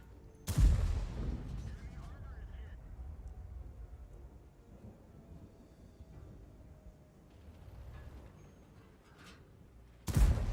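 Tank cannon shots in World of Tanks, two heavy booming blasts about ten seconds apart, with quieter game rumble and faint engine noise between them.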